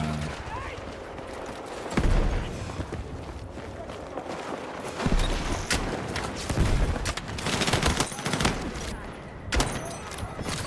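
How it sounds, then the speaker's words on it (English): Gunfire in the video game Battlefield 6, heavy shotgun blasts among scattered shots and booms in a busy firefight, with a voice talking over the action. "Shotgun."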